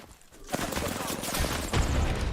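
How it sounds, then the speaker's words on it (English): Gunfire in the video game Apex Legends: rapid bursts of automatic shots and booms building after a brief quiet start, loud and dense, with a voice speaking over the shooting. "An enemy taking fire. I am taking fire, friends."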